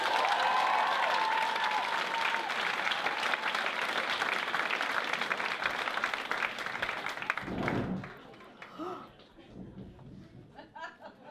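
An audience at a school show applauds loudly and steadily for several seconds, the clapping then fading out with a few scattered claps and light laughter.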